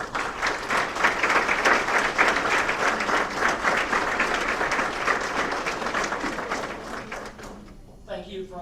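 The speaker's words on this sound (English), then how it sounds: "if y'all could give a round of applause for our coaches" Audience applause at a university sports alumni banquet, a steady full burst of clapping from a room of people lasting several seconds before tapering off, followed by a speaking voice at the end.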